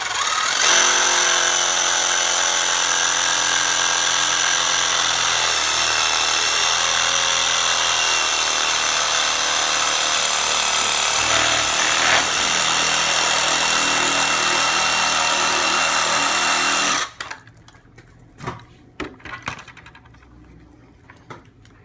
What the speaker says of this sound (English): I think I might not use the Sawzall